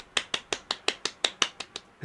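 A lone person gives a slow, soft golf clap: about eleven light, evenly spaced claps, close by and quiet, with no talking.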